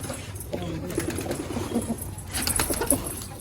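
Pigeons cooing close by as they are moved into their coop, low soft coos repeating over a bed of rustling and faint shuffling, with occasional higher chirps and a brief flutter of wings near the end.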